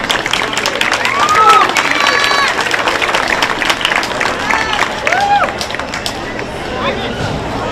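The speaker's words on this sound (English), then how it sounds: "Give them all a big, real big round of applause." Applause from an audience at a junior livestock show, steady and fairly loud for the whole stretch, with crowd murmur and a few whoops mixed in.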